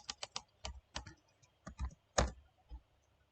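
Laptop keyboard keys pressed in a quick irregular run of sharp clicks, close and fairly quiet, with short pauses between taps and no talking.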